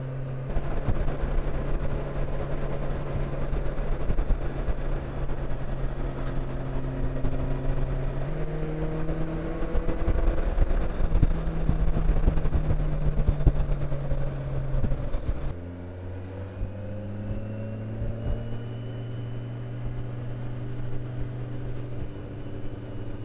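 A vehicle rides a narrow, winding forest road in Slovakia: a steady, close engine drone with rising and falling pitch, a gear or throttle change near the middle, then a quieter, lower hum.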